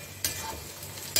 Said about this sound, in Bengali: এখন এখানে আমি দিয়ে দিব এই যে পালং শাকটা, পেস্ট করা পালং শাক।